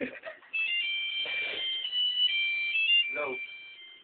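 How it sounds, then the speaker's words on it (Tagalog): A phone ringtone blares loudly in a steady tonal melody for most of the clip, with brief bursts of people talking and laughing mixed in among a group hanging out together. "Palakasan ng ringtone ng laban."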